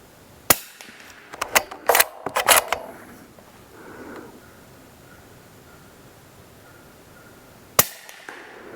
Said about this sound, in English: Let's go ahead and shoot some more.